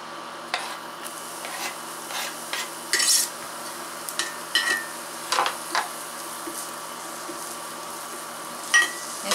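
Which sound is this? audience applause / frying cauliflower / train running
frying cauliflower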